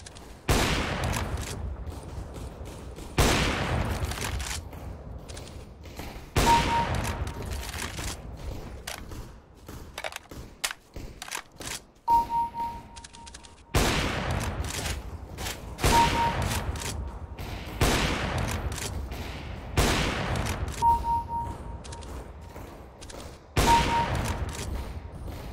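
Gunfire in the CS:GO video game, with rapid bursts of rifle shots coming in repeated sharp volleys separated by brief lulls, loud and close, with faint mechanical clicks between.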